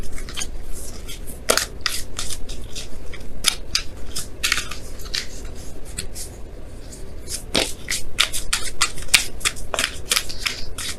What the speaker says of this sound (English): I'm going to pull you guys your Romance Angels card here